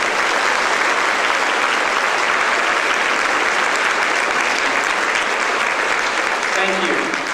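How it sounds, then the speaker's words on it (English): Dense, steady applause from a graduation audience honoring North Carolina scholars at the Riverside 2015 ceremony, a loud continuous wash of many hands clapping throughout without letup. "Please join me in a round of applause for our North Carolina scholars."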